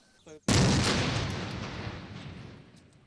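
Controlled explosion demolishing a building for a new ring road project, set off with a small charge because of nearby homes; a brief faint sound comes first, then one sudden loud distant boom whose rumble slowly fades over several seconds.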